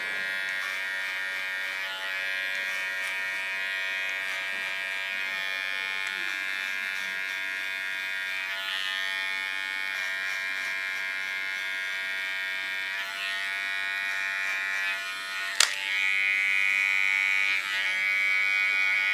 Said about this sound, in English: Put my clipper in a going position again, make an ultra soft contour line.